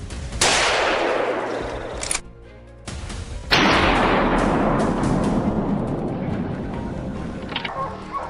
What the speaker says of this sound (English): Moments later, gunfire erupts from other positions